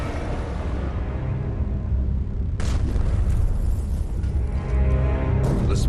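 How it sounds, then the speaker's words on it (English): Deep, rumbling booms and heavy crashes of shells exploding against a submarine hull roll through a constant low roar, with sharper impacts striking near the middle and end, muffled and reverberant. "crash of shells continues to echo through the hull."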